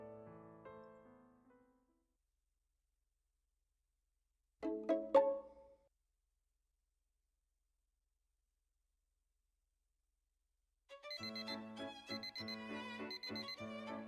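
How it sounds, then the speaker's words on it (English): An alarm clock rings in the Okayunyumu! video game, a short electronic jingle-like chime heard in separate bursts with silence between, the last burst longer and denser. "I wake up to the sound of my alarm."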